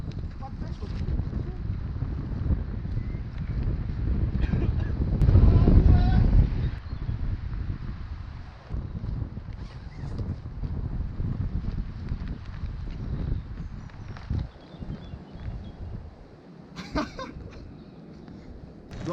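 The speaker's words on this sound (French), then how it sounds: "Il y a un de ces vents." Strong wind buffeting the microphone on a cold mountain pass summit, gusting in uneven waves with a loud surge midway, while people talk intermittently over it.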